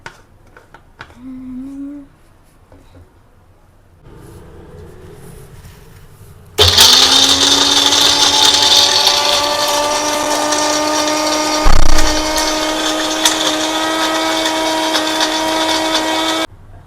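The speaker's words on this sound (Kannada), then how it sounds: "ಮುಚ್ಚ ಮುಚ್ಚಿ ಫಸ್ಟ್ ಬ್ಲೆಂಡ್ ಮಾಡಿಕೊಡೋಣ ಇದನ್ನು" A blender whirs up to speed blending ice apple (palm fruit) for juice, a loud steady high-pitched motor roar lasting about ten seconds after some quieter handling noises, with a brief thump partway through.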